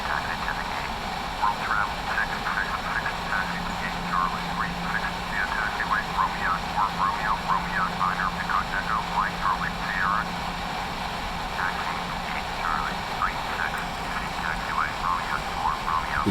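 A PMDG Boeing 737-700 taxiing in the Prepar3D flight simulator, a constant low engine drone with a steady hum underneath, while someone talks over it throughout.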